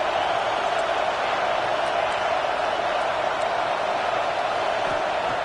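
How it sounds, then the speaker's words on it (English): A stadium crowd roars at a Texas football game, a dense, continuous wall of cheering and noise with no letup, loud and even throughout. "listen to this crowd noise. This stadium is vibrating."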